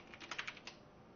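Soft, rapid keystrokes on a computer keyboard form a short burst of clicks that is faint and close, then fade into low background noise.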